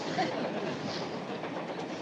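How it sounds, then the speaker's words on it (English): A train rolls along the rails in a 1963 comedy TV show, a steady rushing rumble with faint clatter, continuous and moderately loud throughout. "you're the only kid in the country that drives a train home from school"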